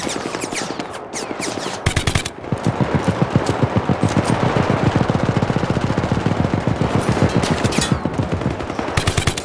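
Sustained automatic turret gunfire in the Syndicate co-op video game, set in China, rattling in rapid continuous bursts at a distance for nearly the whole stretch with only a brief pause, no talk over it.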